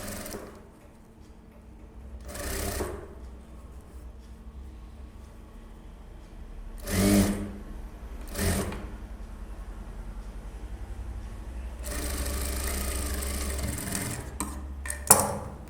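A sewing machine stitches a blouse front piece in short bursts of mechanical whirring separated by quiet pauses, with a longer continuous run toward the end.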